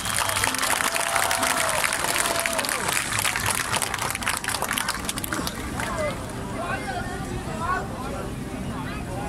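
A crowd at the Dajia Mazu pilgrimage procession ceremony applauds amid a busy hubbub of voices and movement, with talk and shouting over the sustained clapping throughout.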